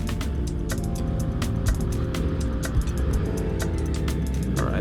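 A Suzuki Hayabusa motorcycle rides through a downtown alley, its engine giving a loud, close, continuous rumble with sharp repeated crackles and pops.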